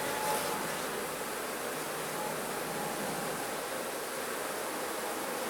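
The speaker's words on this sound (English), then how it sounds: "there's a lot of bees here" Honeybees buzzing at an open hive during a queen introduction into a queenless split: a dense, steady hum of many bees close by, unbroken and alone.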